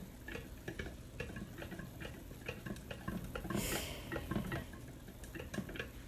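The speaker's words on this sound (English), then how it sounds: "You start stirring that stuff." Thickening glycerin tincture gummy mixture stirred in a pot, a quick run of light rhythmic ticks and taps from a utensil against the pot's side, quiet and close, with a brief swell of soft wet swishing midway.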